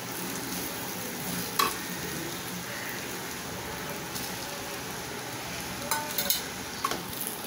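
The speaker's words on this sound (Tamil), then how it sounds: "எல்லாம் போட்டு நல்லா மிக்ஸ் பண்ணிக்கலாம்." Vegetable fried rice being stirred and mixed in a pan, with a steady soft sizzle and a few brief scraping clinks of the spoon against the pan, quiet and close with no talk.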